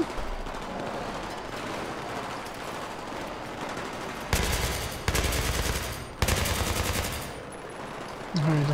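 Automatic weapon fire in Battlefield 3, with sustained rapid bursts over constant background noise and several loud, sharp volleys in the later seconds, while a voice speaks briefly.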